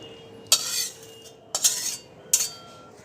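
Three sharp metallic clanks and scrapes of a metal ladle or utensil against a pot of chicken stock at the stove, each followed by a short rattle, spaced about a second apart with no talk.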